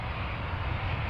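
Steady broadband roar of an Anadolu Jet Airbus A320 airliner landing at Amsterdam Schiphol Airport, a continuous engine rumble with no speech.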